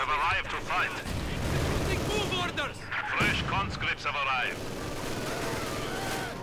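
Mortar and artillery fire in Company of Heroes 2 during a winter defense battle, with repeated booming blasts and crackling explosions layered densely under game speech.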